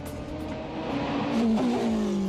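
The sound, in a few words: Formula 2 race car accelerating on track at Spa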